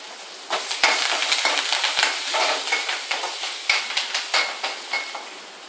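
Curry leaves crackling and sizzling in hot oil in a pan for onion tomato moong dal sambar, a loud bright spattering hiss with rapid popping bursts and a few utensil knocks.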